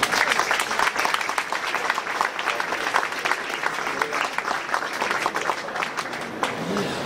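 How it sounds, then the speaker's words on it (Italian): A hall crowd at the Croatian embassy's celebration of joining the EU breaks into lively applause, many hands clapping in dense, uneven bursts for seven seconds while some voices carry through. "ancora un grande applauso sia all'ambasciatore croato"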